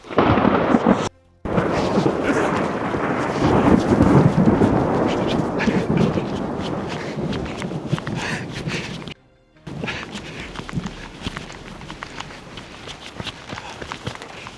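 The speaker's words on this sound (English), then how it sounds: "Thunder was maybe a second after." Loud, sustained rumbling crack of nearby thunder on a Montana mountain peak during a storm, filling the clip with heavy broadband noise and a couple of brief dropouts, plus rain and movement underneath.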